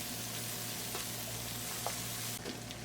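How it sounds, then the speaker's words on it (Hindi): Ginger garlic paste frying in ghee for Kashmiri mutton goshtaba gives a steady, even sizzle throughout, with a few faint stirring scrapes and no talking. "अच्छी तरह से जिंजर गार्लिक पेस्ट को फ्राई करेंगे।"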